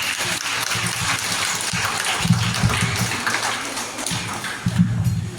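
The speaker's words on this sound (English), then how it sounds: "Let us give them a big round of applause." An audience at a Teachers Day school event in Sohra applauds, giving a dense, continuous wash of clapping at steady volume throughout.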